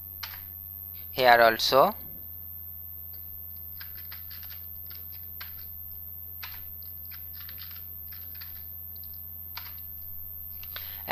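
Code is typed on a computer keyboard: faint, sparse keystrokes spread out after a brief spoken phrase, set against a low steady hum.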